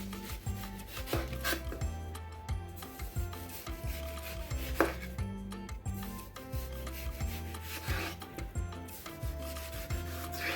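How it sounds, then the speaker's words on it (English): Serrated bread knife sawing the peel off a watermelon, with rhythmic rasping strokes and rubbing scrapes close up, steady back-and-forth cutting that continues throughout. "you're going to just follow the curve of the watermelon around and take off the peel"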